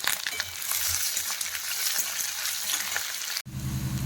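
Garlic, onion and green chilies frying in hot oil give off a loud, steady sizzle close up, with a faint stir or scrape before a brief break near the end.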